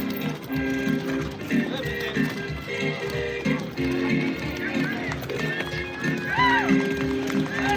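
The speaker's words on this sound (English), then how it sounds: "So there's the ridiculous hooves" Horse hooves clip-clop steadily under loud talk and general crowd noise at a Big Lick horse protest, with a neigh-like whinny rising briefly near the end.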